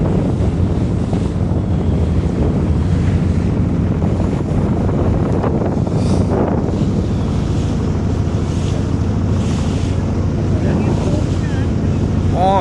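A boat's motor drones steadily on the Meghna River while wind buffets the microphone and water washes past, continuous and fairly loud throughout.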